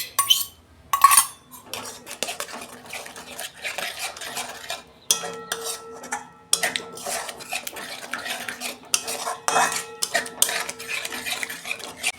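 A metal spoon stirring yogurt into masala in a pan, with repeated irregular scrapes and clinks against the pan over about twelve seconds, close and fairly loud, with no voices.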